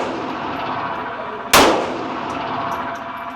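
A single loud gunshot at a shooting range cracks sharply and rings out with a decaying echo, set against steady background noise.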